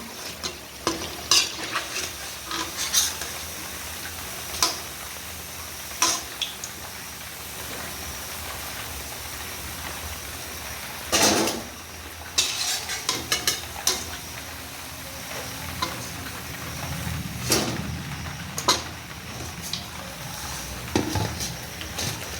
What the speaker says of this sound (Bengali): এই রকম করে আমি সবগুলো পকোড়া ভেজে নেব।